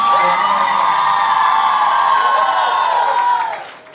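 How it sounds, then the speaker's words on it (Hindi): A gathered audience at a religious offering service cheers and whoops loudly with scattered clapping, a dense, steady roar of voices that holds for about three and a half seconds before fading away. "उनके लिए जोरदार तालियां बजाएंगे"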